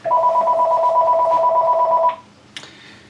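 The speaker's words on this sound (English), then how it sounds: "now I got a phone ringing around here" A telephone rings with a steady two-tone electronic trill for about two seconds, then stops, followed by a brief faint click.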